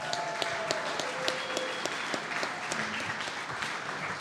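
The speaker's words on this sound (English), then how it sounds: "Another round of applause for the Wolves, ladies and gentlemen." An audience applauds a high school football team at a live sports club show, a steady wash of clapping sustained for several seconds with faint tones and murmurs underneath.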